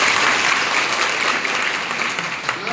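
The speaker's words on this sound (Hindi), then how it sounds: "माननीय प्रदेश अध्यक्ष जी के लिए जोरदार ताली पद के लिए।" A crowd at a political party rally in Madhya Pradesh bursts into loud, sustained clapping, a dense even wash of applause with no voices over it.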